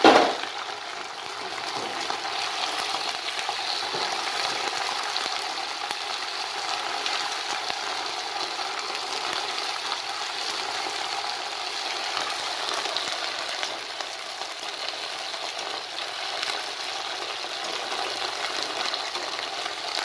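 Okra (bhindi) fries in hot oil in a kadhai, after cumin seeds have already crackled, giving a steady, close, continuous sizzle that holds evenly across the clip with faint occasional stirring clinks and no talk.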